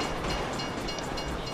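A train rushes past in the GTA V video game, a steady, loud rolling rumble that fills the whole stretch without letup and with no voices over it.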